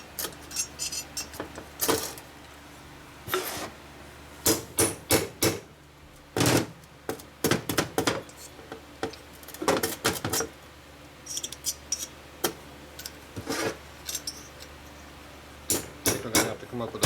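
Loose metal chunks rattle and clatter inside a 1942 Harley WLA 45 flathead stroker motor, in irregular bursts of sharp metallic jangling close-up, separated by short quieter gaps.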